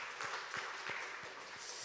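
A church congregation gives a brief round of applause during a Sunday morning service, faint, scattered clapping with a few distinct claps standing out.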